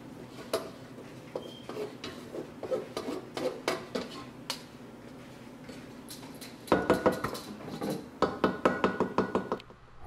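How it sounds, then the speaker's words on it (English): Rice tipped back into a metal cooking pot while making sticky rice with jackfruit, heard as a run of close clattering knocks and scrapes of spoon against pot, growing louder and busier toward the end. "Then we're gonna put the rice back into the pot."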